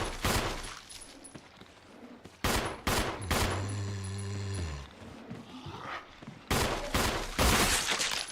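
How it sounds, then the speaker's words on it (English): Gunfire in Resident Evil as a zombie takes a headshot: several loud, sharp shots in a burst-like pattern, with a short ringing, toned effect between them, all close and prominent with no talking. "There we go, headshot."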